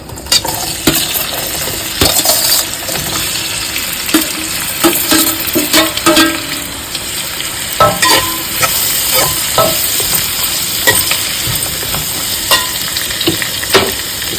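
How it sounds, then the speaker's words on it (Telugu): Chopped onion, green chilli and curry leaves frying in hot oil for a banana curry, a close, loud, continuous sizzle broken by repeated scrapes and clinks of a spoon stirring in the pan. "ఆయిల్ వేడెక్కాక మనం కట్ చేసుకొని పెట్టుకున్న ఉల్లిపాయ, పచ్చిమిరపకాయ, కరివేపాకు అన్నీ వేసేసుకోవాలి."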